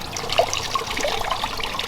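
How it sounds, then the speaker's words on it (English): Water trickling and splashing down a garden pond waterfall during a wildlife pond renovation, a steady close babble with small drips and no voices. "we've got some water coming down here into this area"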